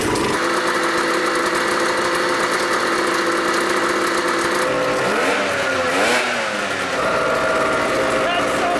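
A 2-stroke 750cc Hoonigan golf cart engine running close by, a loud continuous raspy drone with a rising and falling pitch sweep midway as the throttle changes.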